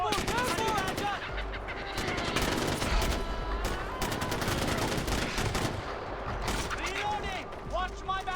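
Gunfire in the Far Cry 4 video game: rapid bursts of shots, close and loud, mixed with shouting voices and other game sounds.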